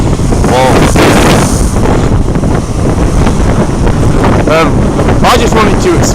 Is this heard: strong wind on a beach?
yes